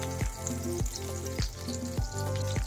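Butter melting with a spoonful of olive oil in a pan, sizzling steadily and close, with regular scraping strokes of a utensil about every half second over the bubbling.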